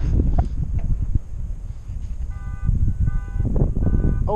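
A car alarm sounds in a summer Alpine village at Les Lindarets in the Portes du Soleil, faint repeating electronic tones heard from a distance beneath heavy wind noise and rustling.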